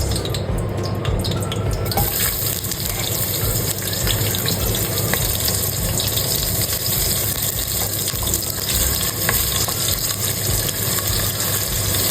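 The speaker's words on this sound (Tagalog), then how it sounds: "So ayan, mainit na yung oil natin. Pwede na natin ilagay yung sibuyas." Onion frying in hot oil for chicken adobo gives a loud, dense, continuous sizzle that hisses without pause throughout.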